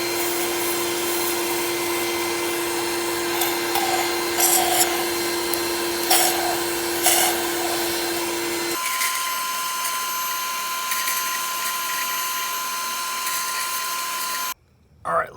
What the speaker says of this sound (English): And then vacuum it out with the whatever it is that I just showed you